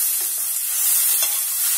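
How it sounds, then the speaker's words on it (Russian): Peas stirred and frying in a pan while making an omelette, a steady broadband sizzle with soft scraping stirs, close and continuous without speech. "по одной штучке сковородку закидывать, перемешивать хорошо, здесь уже горит"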